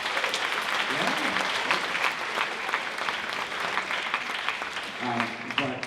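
Applause fills the room at a school spring band concert, a dense, even clapping from a large audience that continues throughout, with a voice briefly rising above it near the end.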